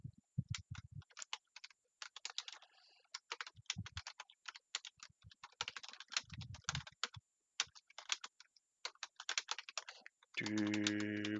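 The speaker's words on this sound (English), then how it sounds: "Aggressive typing." Aggressive typing on a computer keyboard, fast irregular clacking bursts close up and fairly loud, with a few low thumps and a short steady tone at the end.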